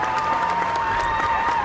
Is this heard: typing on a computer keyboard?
no